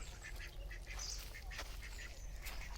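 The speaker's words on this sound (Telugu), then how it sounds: "ఇవి బాతులు చూసారా ఎలా ఉన్నాయో" Ducks at a farm duck unit beside a fish pond, quacking in short repeated bursts against a rumbling outdoor background, fairly faint and from a moderate distance.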